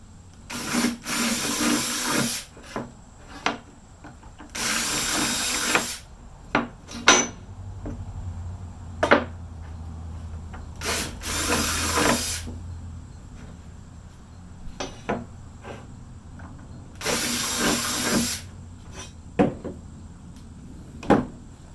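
Quarter-inch bit drilling through aluminum sheet for mounting a solar panel on a Jeep XJ, several loud bursts of a few seconds each separated by quieter pauses with clicks and handling knocks.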